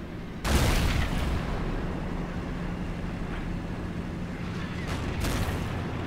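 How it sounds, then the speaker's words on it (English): A very big gun booms in a Men of War tank battle, a sharp loud blast at the start followed by a sustained rumbling roar of combat, with a smaller burst later on. "That is a very big gun."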